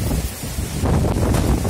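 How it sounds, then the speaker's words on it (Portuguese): Strong gusty wind in Itapura during a storm with heavy rain, a broad roaring rush that swells louder in the second half, buffeting the microphone with no talking. "Olha o vento que tá aqui, gente!"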